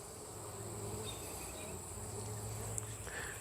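Honeybees hum softly from an open ten-frame hive, a faint, steady buzz with a low droning undertone and no talking.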